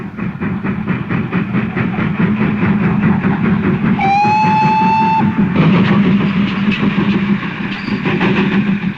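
The steam locomotive King George V rumbles steadily with rhythmic clattering, and partway through a clear whistle sounds for about a second over the running noise.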